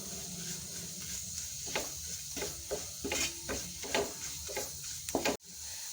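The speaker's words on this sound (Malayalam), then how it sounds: "നന്നായിട്ട് മസാലകളുടെ പച്ചമണം മാറുന്നത് വരെ വഴറ്റി കൊടുക്കുക." Masala spices are sautéed in oil in a pan for Kerala-style beef roast: a constant close sizzle with a steady rhythm of spoon scrapes and stirring knocks, ending in a sharp clack.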